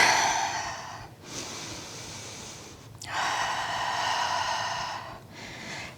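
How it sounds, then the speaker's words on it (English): Heavy, forceful breaths drawn and pushed out during a heated yoga session, three long airy exhalations separated by short pauses, close and alone. "And breathe."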